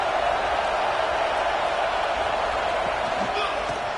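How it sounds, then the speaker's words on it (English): Stadium crowd at a college football game roars in a steady, dense wash of cheering and noise that holds loud throughout, with no distinct pauses. "Listen to the crowd energy here in the early going."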